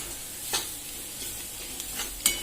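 Pav bhaji masala mixture being stirred in a pan, with a soft steady sizzle and a few faint scraping strokes of the spoon spaced across the clip, quiet and close.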